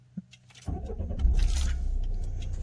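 Citroen C5 2.0 HDI diesel with automatic gearbox, started with a conventional key: a brief key jingle, then the engine catches and settles into a steady, close diesel idle.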